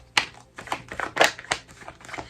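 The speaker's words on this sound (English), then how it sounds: "I combined two decks because I like having that many cards to shuffle through" Tarot cards from two combined decks are shuffled in a series of brisk, close riffling bursts, each a short papery flutter, with no talking.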